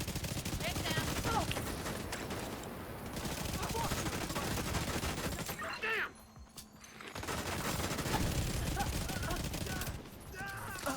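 Rapid, continuous video game gunfire rattles nearly throughout, with dense automatic bursts that pause briefly midway and again near the end.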